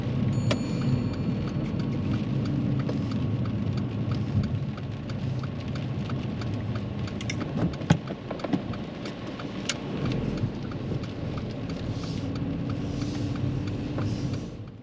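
Steady rain drumming on a car in town traffic, a continuous wash of droplets over low road and engine rumble, with a brief thump near the middle and no talking.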